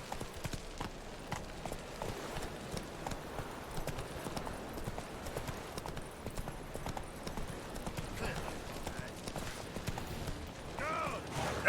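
Video game horse Roach trotting in a steady clip-clop of hooves that runs throughout, with occasional creaks and background game ambience; someone talks briefly over it.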